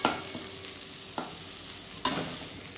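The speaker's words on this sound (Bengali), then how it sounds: "আর দেখো এখানে পেঁয়াজ ভাজা হচ্ছে, একটু লাল লাল করেই ভাজবো।" Chopped onions fry in a pan until reddish, giving a steady close sizzle broken by three sharp stirring scrapes spaced about a second apart.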